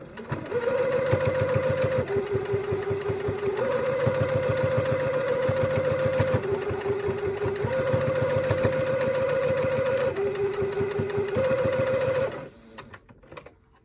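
A domestic sewing machine runs continuously, stitching the side seam of a fabric face mask with a loud, even mechanical hum and a rapid needle rhythm, then stops abruptly near the end. No one speaks.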